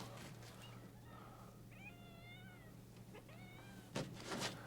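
Indoor cat meowing a few times in short, fairly faint calls over a low steady hum, ending with some nearby handling noise.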